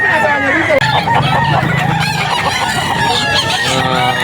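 A young rooster crowing at the Bocaue pet market, loud and close, with clucking from other fowl and crowd babble in the background.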